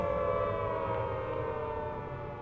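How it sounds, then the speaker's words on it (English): A civil defense tornado warning siren wails as a steady, sustained tone, loud and unbroken with a slight fade toward the end. "most people recognize them as a tornado warning siren"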